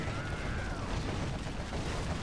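Quad cannon fire rattles in the strategy game C&C Zero Hour, a dense, continuous barrage of rapid gunshots and booms under a faint tone, with no clear speech.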